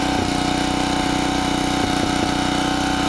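A Generac 750 watt portable generator engine runs steadily nearby at a constant idle, its small motor droning loudly with an even buzzing rhythm and no talking.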